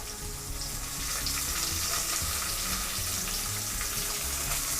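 Small onions sauté in a hot pan for a tamarind-based vatha kuzhambu, giving a steady, close, dense sizzle with a faint bubbling texture throughout and no voices.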